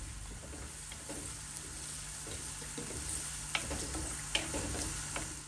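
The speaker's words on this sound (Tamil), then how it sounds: "இது எல்லாத்தையும் இதில் போட்டு நல்லா வறுத்து எடுக்க போகிறேன்." Soft, steady sizzling of coconut frying in hot oil in a clay pot, with occasional light scrapes and taps of stirring.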